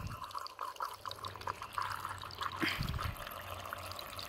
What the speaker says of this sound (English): we're going to put water into this funnel here to see where the drain, where the water is leaking